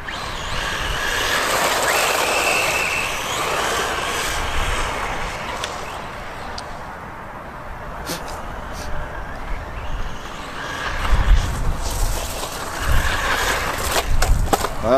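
A Hobbytech BXR.S1 four-wheel-drive RC car drives over a rough path, its tyres crunching and rattling on gravel and its motor whining, with a voice talking at times.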